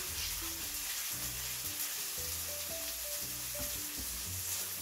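Tortilla wraps fry in butter in a pan on the stove, giving a steady, quiet sizzle throughout while low background music plays underneath.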